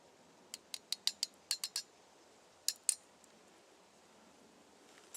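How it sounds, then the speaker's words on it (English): A utensil stirring beef and bacon ramen in a pot on a bush stove gives a quick run of light metallic clinks, then two more taps after a short pause, faint and close with no talk. "Now let's go ahead and stir that again. Get that meat mixed around"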